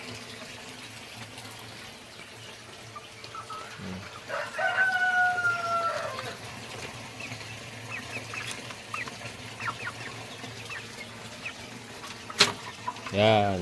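Growing young roosters and hens on a Filipino farm cluck and crow, with a clear crow mid-way and scattered clucks over outdoor background noise. Someone speaks briefly.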